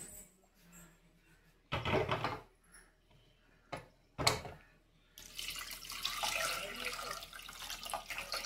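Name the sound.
water poured into pot of lentil dal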